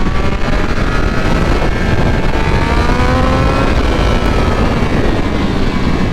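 A 2022 Triumph Speed Triple 1200 motorcycle with an ECU flash tune roars steadily and close, its pitch rising and shifting as it accelerates, with constant wind rush over the whole stretch.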